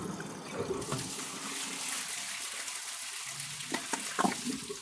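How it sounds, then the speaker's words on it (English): Water trickles and splashes as it is poured into a toilet bowl while comparing a Kohler Class 5 and a Toto Drake, a steady soft pour with a few brief louder splashes near the end. "But first I gotta add some water to the bowl."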